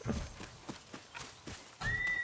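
A horse in the video game Ghost of Yotei trots with a steady clip-clop of hooves, faint and rhythmic, and a brief whinny or whistle near the end.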